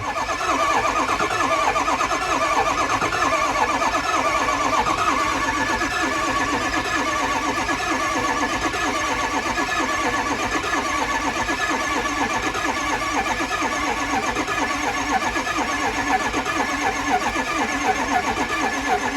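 The engine of a 2004 Ford F250 starts and then runs at a steady loud idle close by, with constant mechanical clatter throughout.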